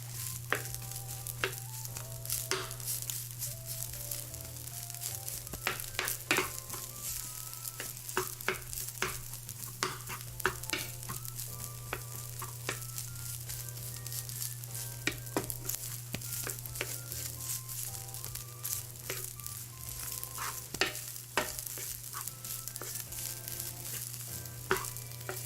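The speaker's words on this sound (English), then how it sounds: "Let me get you some frying sounds here." Food frying in a pan gives a continuous crackling sizzle with stirring scrapes, set against melodic background music and a steady low hum.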